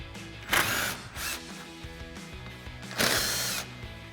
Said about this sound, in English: Then we'll grab our 10mm socket and our impact and go ahead and run our 2